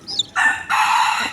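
Chickens call in short bursts, with a brief chirp followed by two longer, loud and close clucking or crowing calls from the flock, which includes a black hen and a chick.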